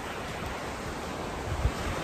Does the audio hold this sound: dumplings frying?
no